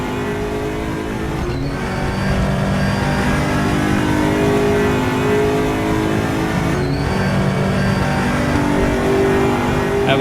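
ESR Aquila race cars driving at Monza, a loud continuous engine roar with a sustained revving drone throughout, close and dominant with no gaps, no talking.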